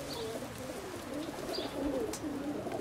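Sky cutter pigeons coo softly on top of outdoor fly pens, a low rolling murmur repeated several times at moderate distance with faint background noise.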